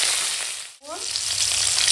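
Thin pumpkin slices frying loudly in mustard oil with mustard seeds, a steady close hiss of sizzling throughout that dips sharply for a moment as the pieces go in, then swells back fuller.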